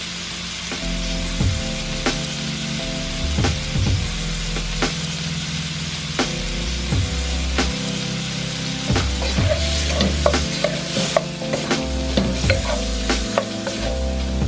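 Shrimp sizzles steadily in a hot pan while a utensil stirs and scrapes with irregular knocks, the frying loud and close throughout, with no talking, during preparation of salt-free shrimp Alfredo.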